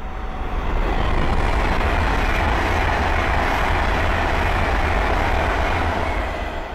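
Avanti West Coast Class 390 Pendolino electric train, unit 390-132, running between London Euston and the north along the West Coast Main Line at Linslade, sweeping past loud and close as a steady rushing roar with rumbling wheels for several seconds.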